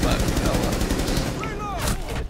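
Rapid automatic gunfire from a drop shot in the Rainbow Six Siege video game, loud dense bursts in the first half followed by a few thinner game effects and faint background sound.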